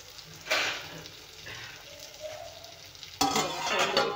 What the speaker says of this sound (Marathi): आता गॅस कमी करून आपण वांगे छान तेलावर भाजून घेऊया।